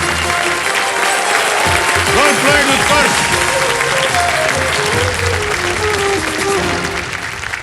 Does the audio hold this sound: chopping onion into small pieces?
no